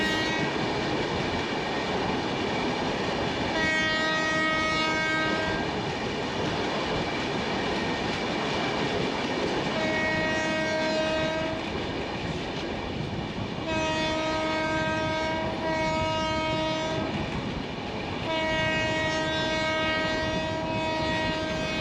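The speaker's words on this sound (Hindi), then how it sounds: "WAP7 लोकोमोटिव के साथ Bareilly new Delhi intercity express" A WAP7 electric locomotive hauling the Bareilly–New Delhi Intercity Express passes with a steady rail rumble, while its horn sounds in several repeated sustained blasts, loud and close.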